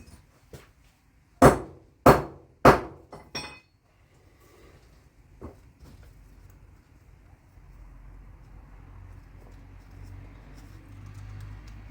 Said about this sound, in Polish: No, trzeba młotkiem użyć.